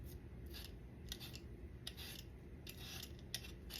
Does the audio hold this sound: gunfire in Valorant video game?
no